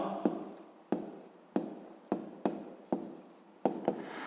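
A math answer being written down, with a pen or pencil scratching out a series of short, distinct strokes in a steady rhythm, close and fairly quiet, with no talking.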